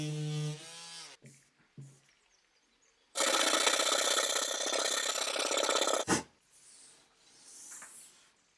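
On a Victorian sideboard, glued gaps are sanded over: a brief voice and a couple of knocks come first, then about three seconds of loud, steady, rasping abrasion, followed by a sharp thud and faint handling noise.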